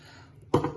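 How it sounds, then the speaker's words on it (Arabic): A glass of water splashes into a pot of Moroccan harira soup as it cooks, one short, full pour that starts abruptly after a quiet stretch and tails off quickly. "غادي نزيد عليها واحد الكاس ديال الماء"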